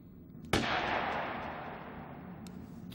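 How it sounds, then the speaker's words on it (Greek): A single sharp gunshot-like blast cracks out near the start, followed by a long rumbling decay and a faint second report near the end, with no voices. "Πυροβολισμοί."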